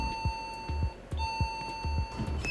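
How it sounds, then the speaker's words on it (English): A down chime from an elevator in the Elevator Testing (ET Testing) game, a steady electronic tone with rhythmic low thumps repeating about every half second underneath and a brief higher beep near the end. "There's your down chime again."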